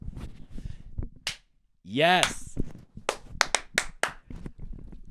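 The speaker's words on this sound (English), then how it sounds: "let me do a quick clap" Sharp hand claps made while setting up a podcast recording: a few crisp, close smacks, including one in the opening second, mixed in with a voice speaking nearby.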